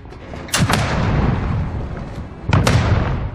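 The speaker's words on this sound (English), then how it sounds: "Cluster strike ready for launch." Cluster strike explosions in Call of Duty Warzone boom in two distinct loud groups about two seconds apart, each a sharp cracking burst followed by rumbling decay over a continuous low roar.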